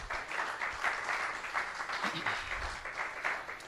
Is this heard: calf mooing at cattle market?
no